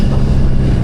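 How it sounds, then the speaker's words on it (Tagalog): Heavy typhoon wind buffets the microphone in a dense, low rumbling roar, steady and loud throughout with no other sounds standing out. "sobrang lakas din ng hangin"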